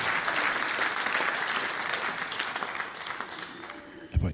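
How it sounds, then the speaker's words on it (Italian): Audience applause at a toast during a concert in Vipiteno, dense and steady clapping that thins toward the end before a sudden thump. "farei un bel applauso anche a loro"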